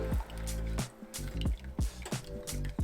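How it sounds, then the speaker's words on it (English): Chickpea batter pouring into a pot of boiling water for chickpea fries gives close, wet plops and squishy drips in an uneven rhythm, with several heavier splats over about three seconds. "then you just want to pour it into the boiling water"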